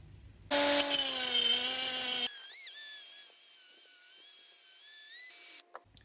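A power grinder working the edge of a solid rubber tyre, starting with a loud, high whine for about two seconds, then dropping to a quieter steady running tone before it cuts off, followed by a couple of small knocks.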